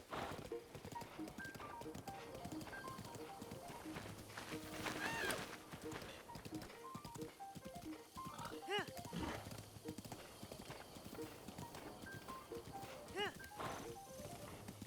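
A horse gallops in The Legend of Zelda: Breath of the Wild, rhythmic clip-clop hoofbeats running steadily in rain, fairly quiet beneath game music and a person talking throughout.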